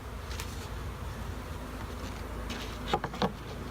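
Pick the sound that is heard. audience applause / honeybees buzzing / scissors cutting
honeybees buzzing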